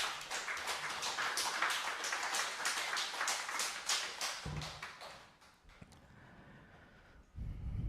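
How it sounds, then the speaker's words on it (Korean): Dense, loud applause fills a church worship service, holding steady for several seconds before thinning and fading into quieter room noise. "모든 선배들과 주생들에게 큰 박수 부탁드리겠습니다"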